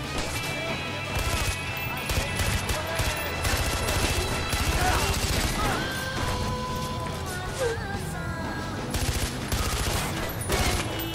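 Dense, rapid gunfire from the first-person shooter Far Cry 4 runs the whole way through, with overlapping bursts of automatic fire and scattered impacts. The volley stays loud and continuous, and a voice speaks over it at times.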